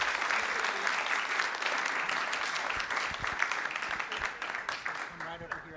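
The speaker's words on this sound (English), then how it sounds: "let's give Allison and her a big round of applause" A school board meeting audience applauds steadily, a dense and fairly close clapping that carries on throughout, while a voice becomes faintly audible near the end.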